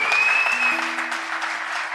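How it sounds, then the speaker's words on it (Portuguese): A church congregation applauds the band during a worship service, giving dense, steady clapping that fills the room for two seconds, with a faint sustained tone ringing beneath it. "Dá um aplauso,"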